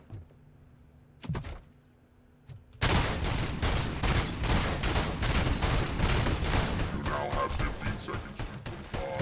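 Sustained gunfire in the RoboCop: Rogue City shooter: a couple of isolated shots early, then after a brief lull a dense, loud run of rapid repeated blasts that continues to the end with little pause.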